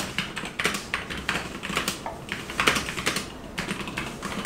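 Rapid typing on a computer keyboard during a typing speed test: a steady stream of crisp key clicks with brief pauses, close and clear, with no talking.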